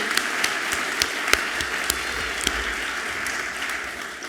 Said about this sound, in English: So let's give a quick round of applause to start, huh?